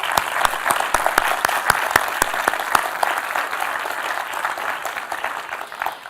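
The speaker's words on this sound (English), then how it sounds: "let's give them a round of applause" Audience at a product launch breaks into steady applause, dense clapping that stays strong, then gradually thins and fades toward the end.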